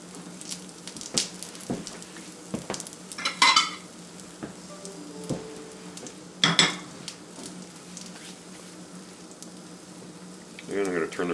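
Food frying in a cast iron skillet, a low continuous sizzle under scattered clinks and scrapes of a utensil against the pan, with brief louder clatters; a voice speaks at moments.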